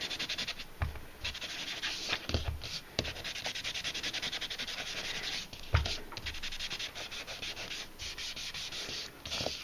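Cardstock is rubbed along the grain to give a weathered wood look on a handmade fall wreath card, with close, steady scratchy strokes repeating at a brisk rhythm.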